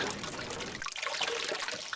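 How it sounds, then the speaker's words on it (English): Hands being washed under a running tap make a steady, fairly quiet wash of splashing water with no voices. "I am washing my hands."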